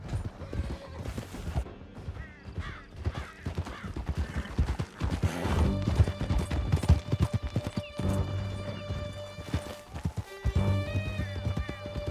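Hooves gallop fast and close in Red Dead Redemption 2 as horses race out of a canyon, a steady clip-clop rhythm broken by whinnies and joined by voices and other background sounds.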